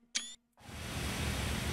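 Camera shutter click from the screenshot function in Train Simulator Classic, a single short snap with a brief bright tone, followed by steady ambient hiss from the game scene.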